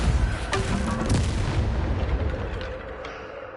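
A Repulsor spell blast in Hogwarts Legacy, a loud booming burst with a rumbling, crackling tail that slowly fades over a few seconds.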